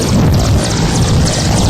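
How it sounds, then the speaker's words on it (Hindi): A military combat helicopter carrying commandos drones loudly and steadily, a dense continuous engine and rotor roar filling the whole moment without any voices. "ऐसे वक्त में जरूरत होती है लड़ाकू हेलीकॉप्टर की, जो इन कमांडो के लिए तैयार है।"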